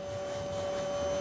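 A vacuum cleaner running aboard the International Space Station, a steady drone with a constant whine, close and continuous, heard alone without talk.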